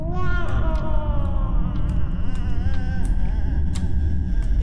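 A cat in a video game cries in a series of wavering, plaintive meows over a steady low rumble of game background sound, with small clicks scattered throughout.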